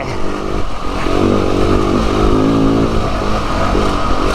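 A motorcycle ridden hard along a slimy, muddy country lane in cold, wet weather: a loud, close engine drone holds steady and rises and falls slightly as the bike pulls through, with no talking.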